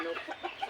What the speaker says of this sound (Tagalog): Kain po tayo ng mga manok sa backyard.